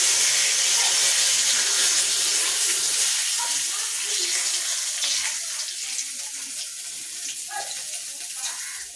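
Five-spice and bay leaves hit hot oil with a loud, hissing sizzle that starts at full strength and eases off slightly over several seconds, close by, with no one speaking.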